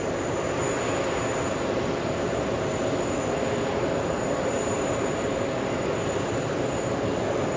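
Boeing 747 jet at JFK airport, a constant loud roaring engine wash with a thin high whine running steadily throughout, no talking.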